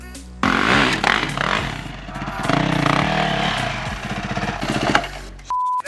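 A Yamaha YZ450FX dirt bike labors over hard enduro terrain, its engine chugging and revving in rough, uneven bursts close by, loud throughout with a brief tone near the end.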